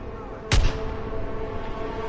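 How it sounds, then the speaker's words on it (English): A single heavy gunshot from a Call of Duty World War 2 campaign battle, booming out sharply and then fading into a constant rumble of distant combat and ambience. "I hear shooting."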